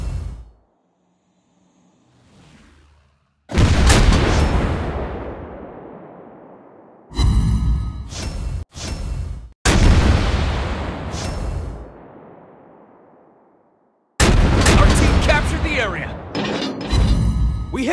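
Naval gunfire from a Tier 8 British cruiser, the Albemarle, in World of Warships Blitz: several loud booming salvos and impacts, each with a long rumbling decay, separated by short quiet gaps.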